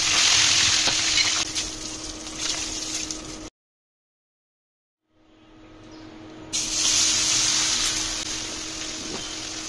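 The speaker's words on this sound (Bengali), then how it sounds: "মাছের এক পাশটা ভাজা হয়ে গিয়েছে" Pieces of rohu fish fry in hot oil with a loud, steady sizzling hiss that cuts out to silence for a couple of seconds, then returns faintly and swells back to full strength.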